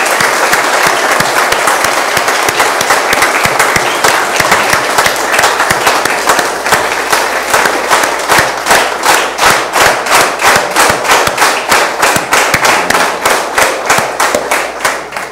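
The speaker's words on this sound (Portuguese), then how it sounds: "então nós vamos mais uma salva de palmas então para Nossa Senhora" Loud, close applause from a church festival crowd honoring Our Lady, sustained clapping that settles into a rhythmic, unison beat toward the end.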